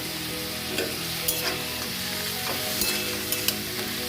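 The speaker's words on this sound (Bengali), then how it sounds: "পেঁয়াজটা নরম হয়ে গেছে, এবার আমি চিচিঙ্গাগুলো দিয়ে দেব।" Snake gourd frying with softened onions in a pan gives a continuous close sizzle, broken by several sharp stirring scrapes and clicks of a spatula, with no voices.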